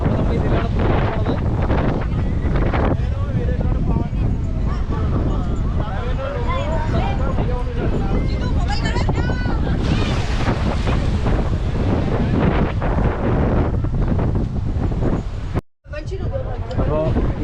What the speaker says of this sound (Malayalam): സ്പീഡ് ബോട്ട് അപ്പോൾ നമ്മൾ ഇതിലാണ് പോകുന്നത്.